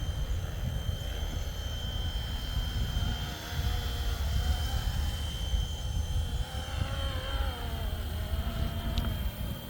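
An RC helicopter running Rotorflight hovers and flies nearby, a steady buzzing rotor whine with rumbling wind noise, its pitch shifting slightly as it maneuvers.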